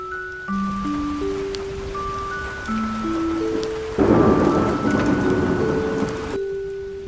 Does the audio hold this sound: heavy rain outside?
yes